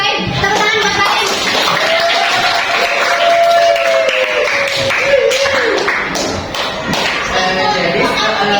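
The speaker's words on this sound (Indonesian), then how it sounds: "Tepuk tangan buat baik" Classroom audience applauding during a lesson presentation, loud close clapping with a few thuds and a rising murmur of voices mixed in.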